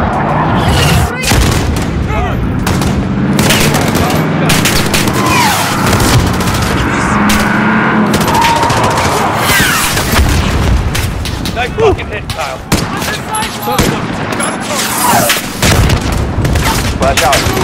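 Call of Duty: Modern Warfare (2019) embassy mission combat brings dense, loud gunfire and booming explosions. Bursts and blasts overlap almost continuously, and radio-style voices talk through the noise.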